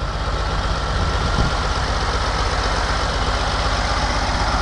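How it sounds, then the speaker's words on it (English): An Oliver 1550 tractor engine runs steadily while disking a field, a loud, constant low diesel rumble close to the microphone with no breaks and no talking. "That's the best tractor I've ever owned right there."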